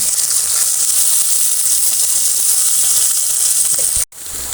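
Cumin, mustard seeds, shallots and green chillies frying in hot oil for aavaram poo kootu give a steady, loud close hiss and sizzle that cuts out sharply near the end, then resumes.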